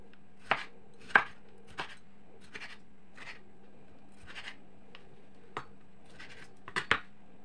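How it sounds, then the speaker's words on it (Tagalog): A knife cuts a tomato on a board in a home kitchen, with sparse, faint, irregular slicing taps and soft scrapes in a quiet room. "So, let's just cut the tomato guys."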